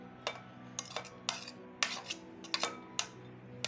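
Chopped onion goes into a bowl of chana chaat, heard as a series of sharp clinks and scrapes of a spoon against the dish, irregular and close, with no talking.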